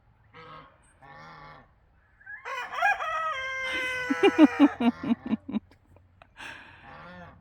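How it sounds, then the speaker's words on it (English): A young rooster gives a thin, wavering crow that breaks into choppy notes, close by, with a couple of short soft sounds around it. "It's the first time I've heard him crow."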